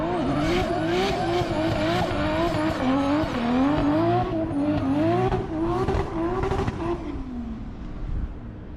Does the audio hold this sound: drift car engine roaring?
yes